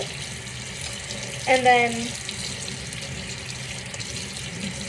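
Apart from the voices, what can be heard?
water running from a faucet during hand washing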